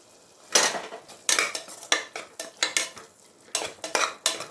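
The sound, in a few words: stirring and sautéing egg biryani masala in a pan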